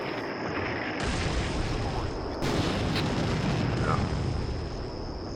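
Artillery fire rumbles in the Combat Mission Black Sea war game, with a couple of sudden booming shots over a constant background roar, heard at a distance and fairly faint.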